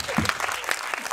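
Audience applause at a film screening and talk event with cast in Busan, short bursts of clapping mixed with voices speaking over it.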